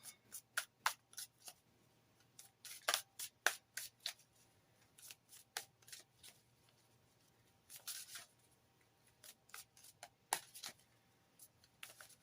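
Tarot cards are shuffled by hand in a run of crisp, papery riffles and slides, some bursts sharp and close, others softer, with brief pauses between them and no talking.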